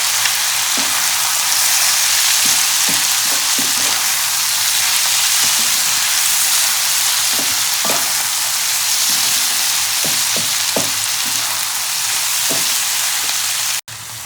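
Tomatoes and red chili powder fry loudly in a pan for a shrimp and onion-flower dish, a strong constant sizzle with scattered spoon scrapes and taps, close-up and steady until it cuts off near the end.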